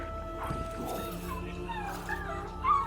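A robot pup in Destiny 2 gives brief, soft whimpers and yips, moderately quiet, set against a low steady background hum with speech-like sounds mixed in.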